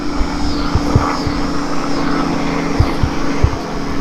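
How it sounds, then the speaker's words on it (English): A helicopter flies overhead above a backyard garden with new vegetable beds, making a steady broad engine drone with a low rhythmic rotor thump, moderately loud and without talk. "Here, a helicopter."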